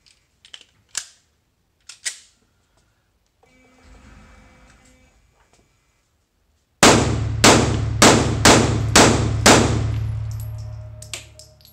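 Seven sharp shots from a Mossberg MC1 striker-fired pistol ring out in an evenly spaced rapid string, loud and close, after a few quieter clicks and handling noises.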